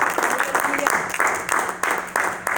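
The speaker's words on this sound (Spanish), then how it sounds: "Denle un aplauso al Cristo de la gloria en esta noche." Church congregation breaks into applause, with bursts of loud clapping and a spoken voice over it, the sound arriving in surges.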